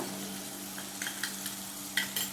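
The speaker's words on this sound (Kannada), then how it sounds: "ಇದನ್ನು ಚೆನ್ನಾಗಿ ಫ್ರೈ ಮಾಡುವ" Chilli and coriander powder masala frying in a pan, a steady low sizzle with a few soft scraping stirs and light clinks near the end, close and fairly quiet with no talk.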